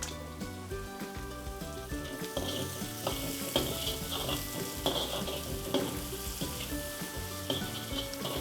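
Shredded carrot and cabbage, salted, fry in a hot pan for paneer noodles, giving a steady crackling sizzle with occasional stirring scrapes over soft background music.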